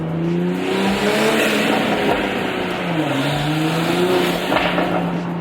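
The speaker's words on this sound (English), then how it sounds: "I heard a lot of turbo noises" Tuned, straight-piped Toyota Supra accelerating hard in first gear, a loud close engine roar climbing and dropping in pitch through gear pulls, with turbo whooshes and no talking.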